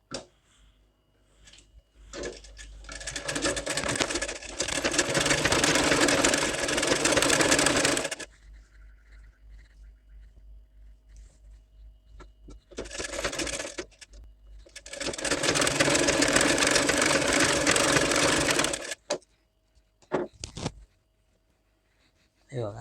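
A sewing machine stitches a blouse in two long, loud, whirring runs broken by a quieter stretch, with short bursts and clicks at the end.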